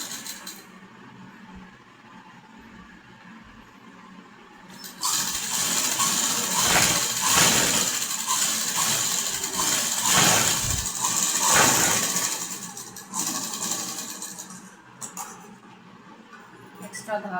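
A sewing machine runs a half-inch seam for a concealed zip in a boutique workroom, its steady motorized whir rising after a few seconds and holding for several seconds, then easing off with short bursts near the end.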